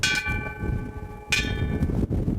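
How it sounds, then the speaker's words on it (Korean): A large bell on Cheongsando island, South Korea, rings with a long, sustained metallic tone, struck again partway through so the ringing swells and hums on. "그러면 느림의 종아 울려라"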